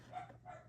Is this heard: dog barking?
yes